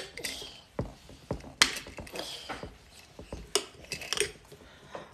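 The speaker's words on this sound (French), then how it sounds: "Tu veux tourner? Attrape fort la cuillère." A spoon stirs pineapple juice in a pot, giving irregular metallic clinks and scrapes against the sides, fairly close and moderately loud, with no voices.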